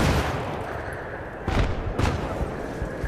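F2000 assault rifle fire in Battlefield 3 on the Grand Bazaar map: a couple of sharp bursts ring out over a dense, continuous wash of battle noise, loud and close.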